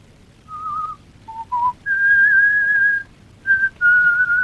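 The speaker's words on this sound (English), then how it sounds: "You whistle and whistle, so you can think." A person whistles a short, clear tune of several notes, some brief and some held, loud and close in a quiet room.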